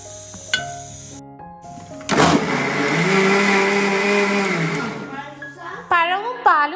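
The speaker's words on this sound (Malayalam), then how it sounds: "പഴവും പാലും പഞ്ചസാരയും കൂട്ടി ഒന്ന് അടിച്ചെടുത്തിട്ടുണ്ട്" A kitchen blender whirs loudly for a few seconds, blending banana, milk and sugar into a juice, starting with a rising motor surge and steady roar before stopping; a voice speaks briefly before and after.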